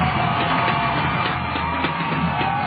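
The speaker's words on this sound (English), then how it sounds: "They're starting to go crazy on a Friday." Minor league baseball crowd at a Friday night Rancho Cucamonga Quakes versus Inland Empire 66ers game, a steady wash of distant crowd noise with scattered whoops and yells, no one speaking up close.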